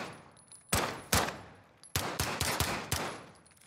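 Bursts of gunfire in Call of Duty: two separate sharp shots, then a quick run of several close, loud rounds, with quiet gaps between the bursts.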